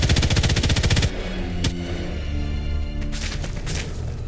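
Rapid automatic gunfire bursts loudly in Sniper Elite 5 for about a second, then a single sharp shot and scattered thuds follow in a quieter game scene.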